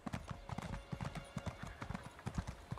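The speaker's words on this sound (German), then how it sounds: "das Pferd ist so langsam." Steady, quick clip-clop of horse hooves in The Elder Scrolls Online, a brisk even trotting rhythm up close with a faint voice beneath.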